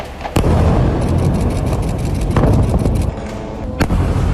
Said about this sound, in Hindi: 24 घंटे गाजा में धमाके गूंजते हैं